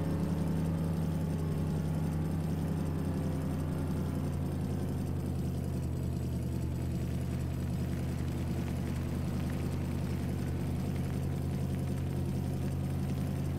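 A tractor engine idles steadily in Farming Simulator 17 on the Emerald Coast map, a continuous low droning rumble with no talk over it.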